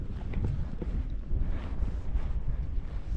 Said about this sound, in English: Just wind and fog.